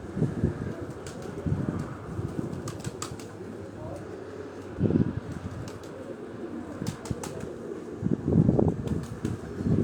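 A pigeon comes in to land on a rooftop on Chak Beli Road in Rawat, with a couple of brief flapping bursts of wings amid soft cooing and background noise, while someone talks over it.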